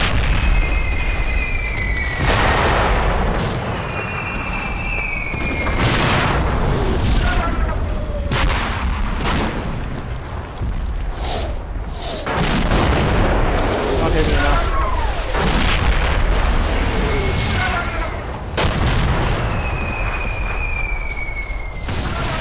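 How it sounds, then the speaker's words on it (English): Mortar shells bursting in the wartime strategy game Combat Mission, a string of heavy, booming impacts spread through the scene over constant battlefield noise, with someone talking over much of it. "This is just the mortars, remember?"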